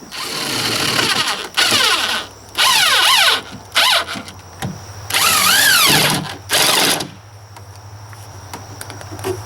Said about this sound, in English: I also like pre-drilling my toenails here.